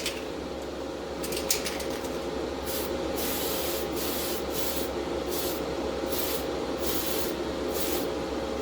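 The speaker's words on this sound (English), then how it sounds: "I'm going to put a coat of primer on the base." Spray primer hisses from an aerosol can onto the base of a Roadmaster Impy Ford Zodiac Estate model car, a steady close hiss broken by several short bursts.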